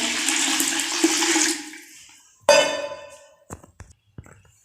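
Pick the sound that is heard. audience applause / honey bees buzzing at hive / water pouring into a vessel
water pouring into a vessel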